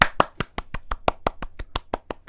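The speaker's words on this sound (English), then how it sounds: "Ovation. Standing applause. Ovation." A single pair of hands claps about fourteen times at a steady, fairly quick pace, crisp and close.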